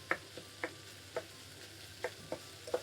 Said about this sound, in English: So we're frying our onions.